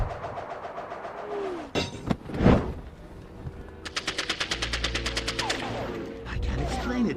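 Dramatized gunfire in a Batman audiobook, with a single loud shot followed by a rapid burst of repeated bullets, set among other effects and a low rumble.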